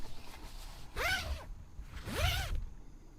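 A zipper on a North Face VE25 tent's back door is pulled open in two close, rasping strokes, each rising and falling in pitch, with a brief pause between them.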